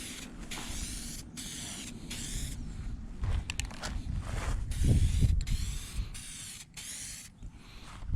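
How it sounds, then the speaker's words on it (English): Satin black spray paint going on in light coats for a Jeep Wrangler TJ dash part, with a series of short close hissing bursts from an aerosol can separated by brief pauses. "I just spray it on with very light coats"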